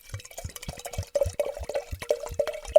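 Wine from an inexpensive Costco bottle poured into a glass, a close, uneven gurgling trickle with small splashy bursts that build in level over a few seconds, with no talking.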